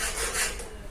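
Close, steady rasping of a file worked over copper pipe to prepare it for welding during a refrigerator freezer box replacement, one continuous dense scrape with no voices.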